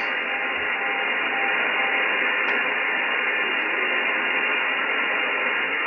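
A NOAA 19 weather satellite signal tuned on a VHF/UHF scanner radio in upper sideband comes through as a steady, fairly weak hiss of static with faint tonal traces, unbroken throughout and without speech.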